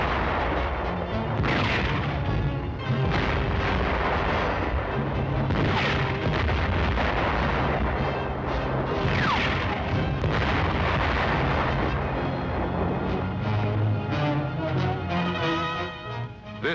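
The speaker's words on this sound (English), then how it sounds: "On this great range, our tanks are spitting steel." Tank guns firing on a range, a dense run of loud booming blasts and rumbling reports overlapping almost continuously, heavy and close, with no talk.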